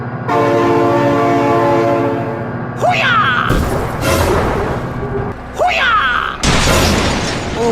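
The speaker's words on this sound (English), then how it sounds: "Oh my god, train!" Train horn in the BeamNG video game blaring steadily, then heavy rumbling crashes and a rushing passing train, loud and close, with excited shouting over it.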